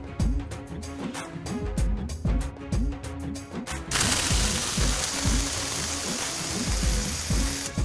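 An electric grinder runs on roasted whole spices for a Navratri garam masala. It opens with rattling, knocking bursts, then settles into a loud, continuous high whir from about the midpoint onward, close up and without talk.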